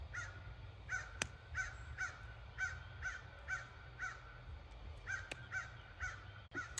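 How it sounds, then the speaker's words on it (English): A crow caws outdoors in a steady repeated series of about a dozen calls, moderately loud over low background rumble, with a few sharp knocks in between. "I'm waiting for the bird to shut up so I can talk"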